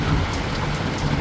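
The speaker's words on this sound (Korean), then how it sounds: "착하게 살았는데도 천둥 번개가 치니까 나가기가 겁나네" Heavy rain pours steadily in a thunderstorm, a dense close wash of drops that stays constant throughout, with no thunder clap standing out and no talk.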